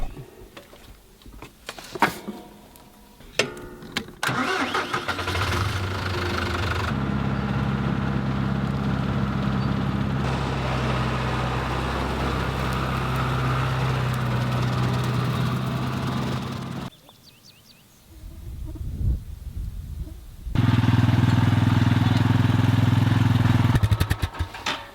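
A mower engine cutting food plots, droning loudly and close with a low, steady hum that shifts in pitch as the load changes, drops away briefly near the end, then returns strongly, with no voices.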